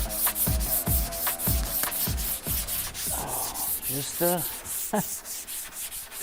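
Rhythmic hand-sanding strokes on fiberglass, a steady rasping scrub repeated several times up close, with a few brief voice sounds near the end.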